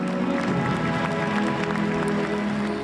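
Applause at a concert in Pyongyang, a broad continuous wash of crowd clapping heard at moderate level with faint crowd murmur, steady throughout without a clear start or end.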